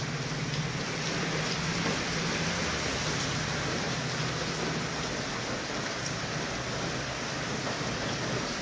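Heavy rain pours down in Jammu, a dense, loud, unbroken hiss of drops on surfaces lasting the whole time with no voices.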